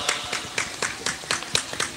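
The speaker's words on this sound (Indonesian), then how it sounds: "Minta tepuk tangannya untuk bapak-bapak nahkoda kapal." Sparse rhythmic clapping from a community audience at an outdoor religious gathering, applauding boat captains; a handful of hands strike in steady, distinct bursts at moderate distance.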